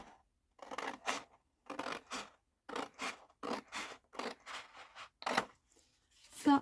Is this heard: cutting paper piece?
yes